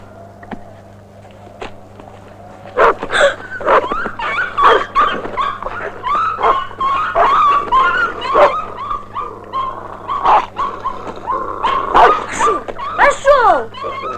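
Herding dogs whimper, yip and bark in bursts under a steady low hum, with people talking between the calls and whines rising toward the end.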